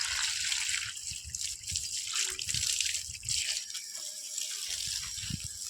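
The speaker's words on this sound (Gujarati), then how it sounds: "ફૂલ ભરી દઈએ પાણી." Water from a garden tap runs steadily into a container, a continuous close splashing and gurgling flow that keeps going for the whole stretch, with no voices.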